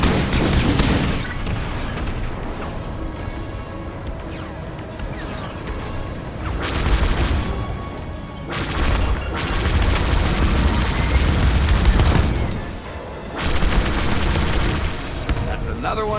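Rapid blaster fire and booming explosions from a Star Wars Squadrons space-combat campaign come in dense, loud bursts with short lulls between, alongside occasional radio-style voices.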